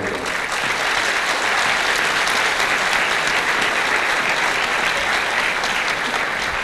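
New municipal employees of Naples fill a congress hall with dense, sustained applause, a loud and even wash of many clapping hands that continues unbroken throughout.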